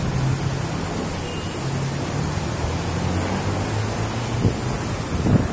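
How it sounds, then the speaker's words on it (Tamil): Strong, fast wind gusts through heavy rain in Melpuram, Marthandam, producing a steady broad roar with a couple of brief knocks near the end and no speech. "பயங்கர ஸ்பீடா இருக்கு காற்று."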